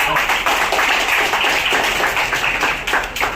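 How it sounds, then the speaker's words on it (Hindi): An audience bursts into loud, continuous clapping for a teacher, dense applause holding steady throughout, with voices mixed in underneath. "सर के लिए एक बार जोरदार ताली हो जाए सर के लिए"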